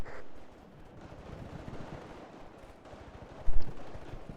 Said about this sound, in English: 50 cal of the little mule vehicle being used as fire support